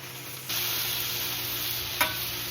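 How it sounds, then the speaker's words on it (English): A venison smash burger sizzles on a Blackstone griddle, a loud, steady hiss of frying that jumps up as the patty hits the hot surface, with one brief scrape partway through. "smack it onto the grill, and we're gonna let it start cooking"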